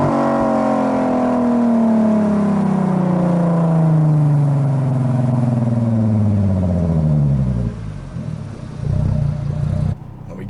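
A 2008 Volkswagen R32's exhaust revs high and then winds down in a long falling drone, close by, ending with rumbling and a brief pause.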